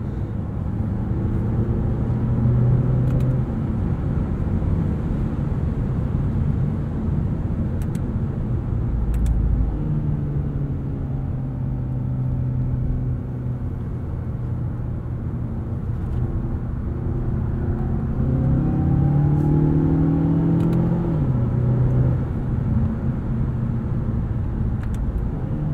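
A 2020 Mazda 6 Signature driven on a backroad, heard from inside the cabin as a steady engine drone with road rumble, the engine pitch rising and falling through gear changes, continuous and without speech.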